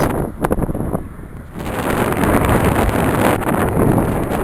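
Gusty wind buffets the microphone with a loud, rough roar that swells and stays strong beside a motorway while cycling, with no voices.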